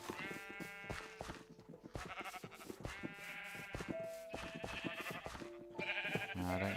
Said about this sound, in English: there's loads of sheep in here, different colours